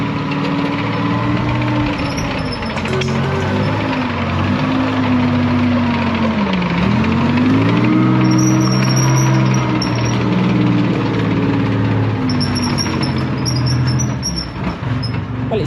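A Wickes Abbot armoured vehicle's engine turning over and running, a loud close rumbling idle with a low droning tone that dips and rises as the revs shift, continuous and alone.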